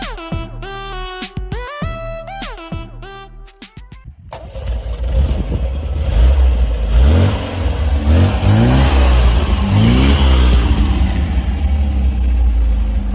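Four-cylinder engine of an MGB GT, first a burst of chiming electronic tones, then the engine catching and revving repeatedly in rising and falling swells, loud and close.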